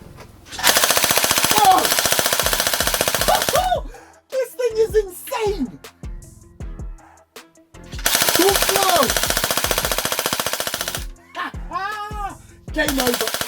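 A Cyma airsoft AEP Glock 18 mounted on a sentry turret fires long, loud, rapid bursts up close, separated by pauses with brief mechanical whirring and a voice between bursts.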